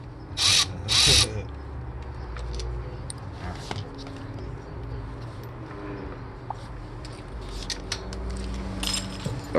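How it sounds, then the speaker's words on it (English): A power tool works on a motorcycle shifter peg install in two short, loud bursts near the start, then lighter metallic clinks, handling noises and faint later bursts against a quiet workshop background. "Oh boy, using power tools."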